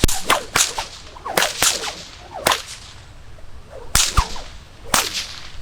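Nylon whip with a cracker that has now frayed, throwing a quick run of about eight loud, close, sharp cracks in uneven bursts, each preceded by a faint swish, with no voices.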